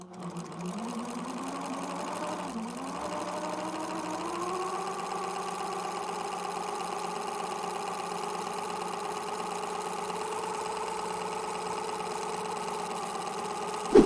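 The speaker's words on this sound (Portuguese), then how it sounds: "agora é só acionar o pedal do motor e começar a costurar." A Singer Facilita sewing machine fitted with an overlock-style presser foot with a cutter stitches fabric. The motor spins up with a rising whine, then holds a steady, continuous mechanical whirr close by for the rest of the stretch.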